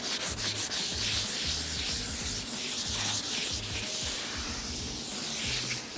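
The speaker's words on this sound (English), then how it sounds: "I'm just going to sand them off just to stop it from marking the leather" Steady, continuous abrasive sanding on a workbench, taking nubs off the surface, dominates closely with rhythmic back-and-forth strokes and a low hum beneath, with no talk.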